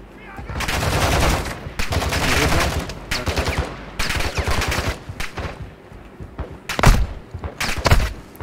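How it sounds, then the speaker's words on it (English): Sustained automatic gunfire in the video game DMZ, with long loud bursts of rapid shots followed by shorter, punchier volleys and occasional heavy thuds. "And they are shooting at me."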